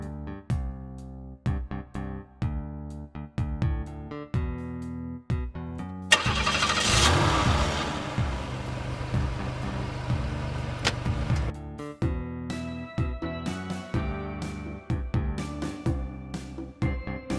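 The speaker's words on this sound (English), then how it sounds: "Minibus." A minibus engine cranks and catches, a loud broadband burst of several seconds sitting in the middle of a bouncy children's tune that plays before and after it.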